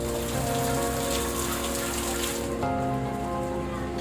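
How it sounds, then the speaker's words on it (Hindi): Steady rain falls in the Valmiki Nagar area of Bihar, a dense continuous patter spread evenly through the whole stretch, fairly loud and with no voices. "वाल्मीकि नगर के इलाके में भी बारिश से मौसम सुहाना हो गया।"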